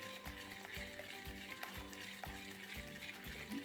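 Chicken crepe batter of flour and milk is whisked in a bowl, giving a soft, rhythmic series of quiet stirring strokes, close and faint, with no talking.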